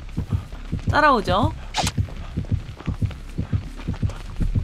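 Rhythmic heartbeat warning in the Dead by Daylight video game, signalling the killer (the Clown) drawing near: steady, loud low thumps in even succession throughout, with someone speaking briefly over them.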